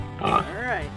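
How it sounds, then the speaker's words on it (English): A cartoon pig gives a brief nasal oink, close and clear, with a short spoken phrase just before it in a farm-animal bingo scene for toddlers. "this is a pig"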